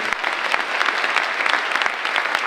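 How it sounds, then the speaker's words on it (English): A school assembly audience breaks into a round of applause: dense, steady clapping from many hands, loud and close, filling the hall without any speech over it. "Yeah, give them a round of applause."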